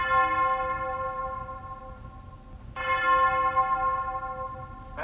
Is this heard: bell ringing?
yes